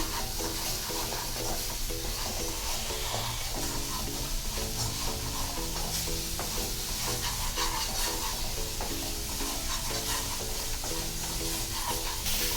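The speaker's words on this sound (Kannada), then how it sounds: "ಸ್ವಲ್ಪ ಚೆನ್ನಾಗಿ ಫ್ರೈ ಮಾಡ್ಕೊಳ್ಳೋಣ ಇದರಲ್ಲಿ" Masala frying in a pan for chole, a dense close sizzle with rhythmic scraping strokes of stirring running steadily throughout, no voices.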